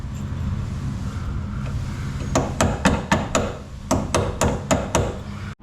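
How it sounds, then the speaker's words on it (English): Sharp metallic hammer strikes drive a punch into the power steering shaft hole of a first-generation Cummins truck, about ten close, loud blows in two quick bursts over a steady low engine-like hum. "So I'm just taking this punch here, jamming it in the hole."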